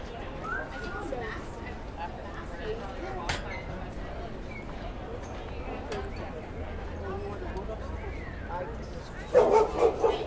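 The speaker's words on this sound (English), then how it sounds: "I'm always on edge when a dog gets feisty over another dog just walking by" A feisty dog yips, whimpers and barks at another dog passing on a busy Manhattan street on a Saturday afternoon, with a sharp louder burst of barking near the end over steady city noise and nearby voices.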